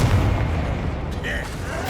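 A Confringo explosion spell in Hogwarts Legacy goes off as a short, loud booming blast within a dense stretch of combat noise, with a voice present.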